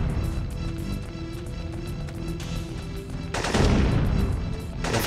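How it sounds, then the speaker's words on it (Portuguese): Gunfire in the PlayStation game Syphon Filter 2, a steady stream of shots and explosions over a dense, loud game soundtrack, swelling into a heavier blast near the end. "O que que tá atirando, ó?"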